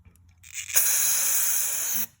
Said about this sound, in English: you can see how good of a job the spray is doing cleaning it